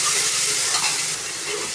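Chopped onion and tomato fry with cumin and whole spices in a hot pan, giving a close, even hiss and sizzle with faint stirring and no talking.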